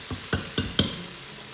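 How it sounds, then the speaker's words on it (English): Beef browns in an Instant Pot while a spoon scrapes the bottom in four quick, close stirring strokes over a low, quiet sizzle. "it is starting to steam and brown, and so I'm just going to scrape it off the bottom, stir it"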